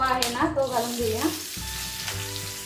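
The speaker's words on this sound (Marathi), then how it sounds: "रवा आणि बेसन आपल्याला एकदाच घालून घ्यायचं आहे तुपामध्ये आणि भाजून घ्यायचं आहे." Semolina and gram flour are stirred while roasting in ghee for besan barfi, a soft crackling sizzle under scraping and a background tone, fairly quiet and close.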